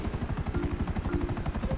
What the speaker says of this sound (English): I think he's coming in a helicopter